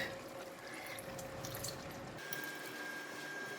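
Water pours into a hot pan of frying black Hokkien noodles with meat and prawns, a soft, steady hiss and bubbling, quiet and close, easing off toward the end.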